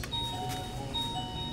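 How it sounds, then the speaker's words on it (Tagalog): A wireless doorbell chimes indoors, a clear, moderately loud electronic ding-dong with two tones in quick succession over a soft background hum, with no talk. "Meron na kaming doorbell guys oh."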